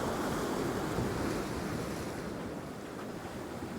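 Stormy sea surf crashing onto the shore at Hopton on Sea near Great Yarmouth, a dense, continuous roar of breaking waves with wind buffeting the microphone, loud and close throughout and slowly easing toward the end.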